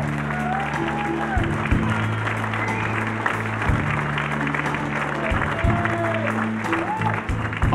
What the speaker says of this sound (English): So a big round of applause for the soldiers,